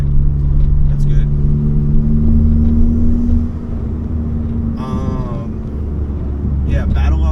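A Ford Focus MK3 fitted with a SideWinder turbo kit drones steadily from inside the cabin while driving, then eases off before the engine note swells again. Someone talks over the engine noise.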